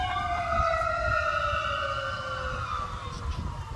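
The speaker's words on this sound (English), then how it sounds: "Fire truck." A fire truck siren wails outdoors on a ranch, loud and steady with rising and falling tones sweeping past, over low background rumble and no talking.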